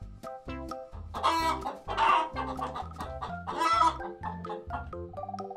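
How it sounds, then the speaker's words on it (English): Toy farm chickens clucking in a quick run of close, bright, choppy calls with a few crow-like bursts, loud and fairly steady with no talk over them. "Chickens."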